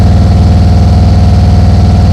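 A motorcycle engine idles steadily and loudly up close, a low rhythmic thrum held at constant pitch just before the rider eases the clutch out to pull away from a stop.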